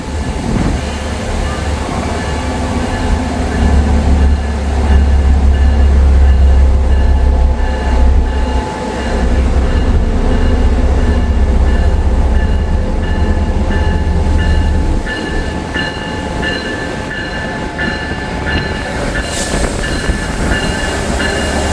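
A train rumbles steadily past close by, with low rolling wheel noise, faint squeals and rhythmic clacking throughout.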